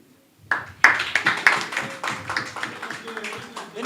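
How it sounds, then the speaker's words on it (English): Audience applause at a youth entrepreneurship pitch contest, bursting in after a brief quiet and continuing as a fairly close, uneven patter of clapping hands with voices mixed underneath. "let's give her another round of applause"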